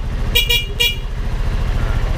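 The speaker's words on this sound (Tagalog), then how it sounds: "Ganda na yung horn niya," Horn on a Rusi RFI175 motorcycle with an upgraded Thai switch, two quick beeps followed by a third short toot, loud and close over a steady idling engine rumble.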